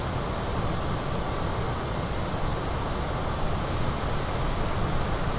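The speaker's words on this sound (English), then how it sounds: "another aircraft passing us? Delta Airlines" Delta Airlines airliner passing in Microsoft Flight Simulator 2020, a steady, loud broadband engine roar with no rise or fade, continuous throughout and with no voices.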